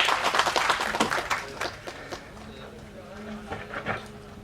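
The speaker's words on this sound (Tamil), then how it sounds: "ஒரு பெரிய கைத்தட்டல் கொடுக்கலாம்." At a film trailer and audio launch event, an audience applauds the film's hero with a burst of claps that quickly thins to scattered hand claps, while voices carry on faintly beneath.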